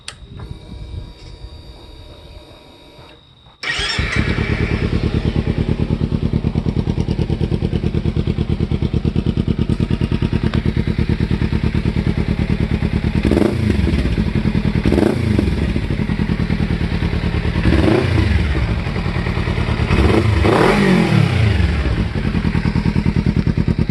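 A Kawasaki Ninja motorcycle fitted with a $70 Ransoto Chinese slip-on exhaust fires up after a brief quiet moment, then idles loud and close with a steady rumble, blipping its throttle in several sharp revs.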